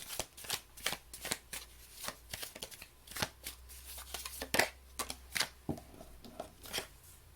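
Tarot cards are shuffled and drawn from the deck, a run of quick papery riffles and flicks that come in irregular bursts, close and fairly quiet, with no voice.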